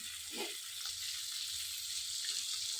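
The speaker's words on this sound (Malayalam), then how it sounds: "മത്തി മീനായതുകൊണ്ട് പിന്നെ പെട്ടെന്ന് വറുത്തെടുക്കാൻ പറ്റും" Sardines frying in a pan give a continuous bright sizzle and crackle, fairly soft and steady, with a brief low bubbling near the start and no talking.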